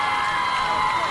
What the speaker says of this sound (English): A large crowd here at Portage